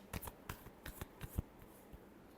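Tarot cards being shuffled by hand, a series of crisp riffling flicks and soft slaps in quick irregular bursts, close and quiet, with no talking.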